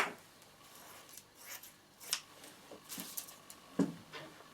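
Scissors cut through a piece of leftover fabric in several soft, separate snips, close and quiet, with no voices.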